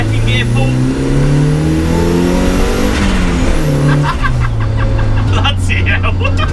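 A turbocharged, rear-wheel-drive MK2 Golf with a swapped-in MX5 engine accelerates hard in second gear, its loud engine note climbing steadily in pitch as it revs up, then dropping back after a shift.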